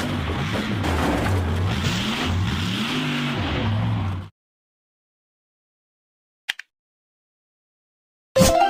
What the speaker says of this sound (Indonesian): Truk monster.